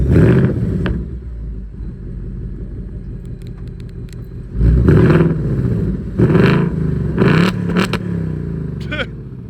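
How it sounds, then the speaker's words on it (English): A 2024 Ford Mustang GT S650 auto-revs on remote start, a deep rumbling idle that flares into several loud revving bursts up close, with someone talking over parts of it. "Not only does this have an auto rev, an auto start has an auto rev."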